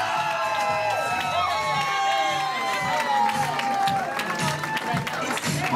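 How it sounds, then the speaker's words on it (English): Wedding guests cheer and applaud as the maid of honor is escorted in, a loud, steady crowd roar with whoops and scattered shouts running throughout over music. "And now a big round of applause for our maid of honor, Cheyenne, who's being escorted by the best"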